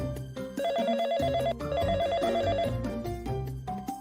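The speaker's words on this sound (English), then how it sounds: "my phone began to ring" A phone rings with a repeating electronic melody, steady and loud throughout, playing alone with no voices over it.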